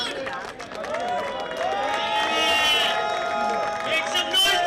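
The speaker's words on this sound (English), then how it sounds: "Let us have some cheering from the crowd." Crowd cheering and shouting at a cricket league prize ceremony on an outdoor ground, a steady wash of many voices with whoops and calls swelling through the moment, close and loud.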